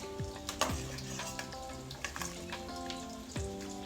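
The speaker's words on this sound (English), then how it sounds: "you want to make sure you stir so the peas could be all over" Rice and peas cook in a pot under a steady soft sizzle, with a few scraping stir strokes, and tonal background hum and music-like tones run underneath.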